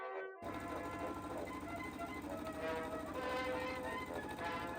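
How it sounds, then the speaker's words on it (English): A sewing machine stitches the top skirt panels of a dress together with a steady rapid mechanical whir that runs continuously after a short silent start, close and fairly quiet. "Here I'm sewing the top panels together."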